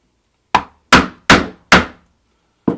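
A 1.5 inch leather strap end punch is struck with a mallet to round strap ends: four sharp, evenly spaced wooden thwacks close together, then a pause and a fifth blow.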